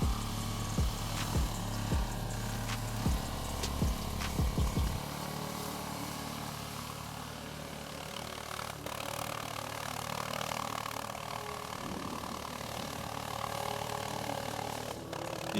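Diesel engine of a tracked Transporter ATV (Dobrinya) labouring up a hill, a steady droning rumble at moderate distance, continuous throughout with no talking.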